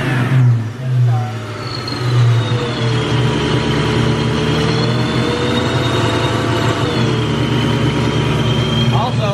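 A 1996 Mustang Cobra with a Vortech supercharger runs close by after a clutch job, its engine idling and revving with a rising supercharger whine, while someone talks over it.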